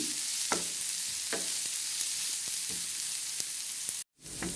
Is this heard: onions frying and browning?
yes